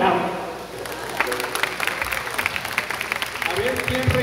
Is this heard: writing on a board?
no